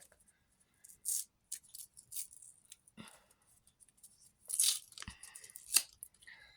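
A paper surprise package being slowly torn open, with a few scattered crisp rips and crinkles separated by quiet pauses, close and fairly soft.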